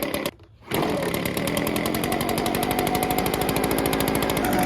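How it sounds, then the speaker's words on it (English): A small engine revs up after a brief dip and settles into a steady, loud buzzing idle with a fast, even rhythm, slightly smoky after being restarted. "We're gonna let it idle a bit."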